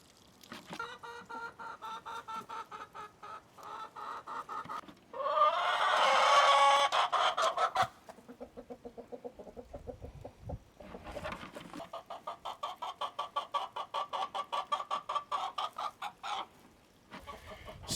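Three new hens on a homestead, said to lay green eggs, cluck steadily and close by in quick repeated bursts, with one louder, busier flurry partway through and no voices.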